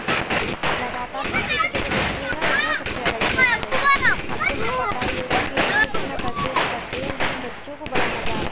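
Firecrackers bursting during a Govardhan Puja celebration in a village, sharp irregular cracks and pops among loud overlapping voices of children and adults.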